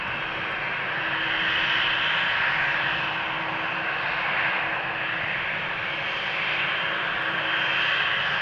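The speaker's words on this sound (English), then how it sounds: "I think the EasyJet will take off first." An EasyJet Airbus A319 takes off, its jet engines producing a loud, steady broadband roar that swells gently and holds for the whole stretch, with no voices over it.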